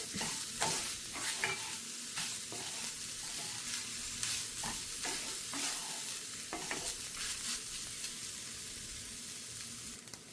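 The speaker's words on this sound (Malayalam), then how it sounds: "ഇനി ഈ തേങ്ങ ഒന്ന് ഒന്ന് മൂപ്പിച്ചെടുക്കാം" Grated coconut is roasted dry in a hot pan, with a steady soft sizzle and repeated scraping strokes of a spoon close by.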